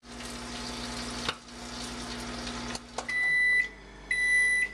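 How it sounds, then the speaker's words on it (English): A microwave oven hums steadily while melting butter, pauses briefly, then a series of high electronic beeps sounds at the end. "I'm going to microwave it for about 30 seconds to get it melted."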